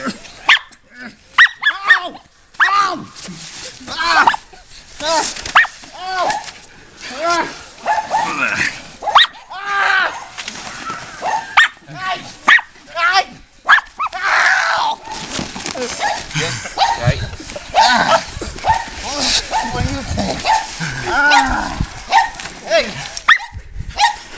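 Several dogs bark, yip and growl repeatedly in loud, irregular bursts, with people talking over the commotion.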